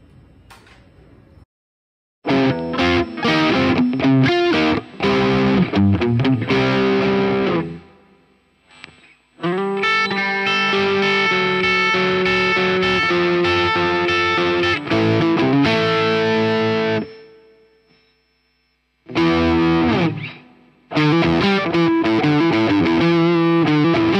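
Electric guitar through an HX Stomp Matchless amp model with fuzz and a Mesa cabinet IR, loud, gritty, distorted riffs and sustained chords played in bursts with brief silent gaps.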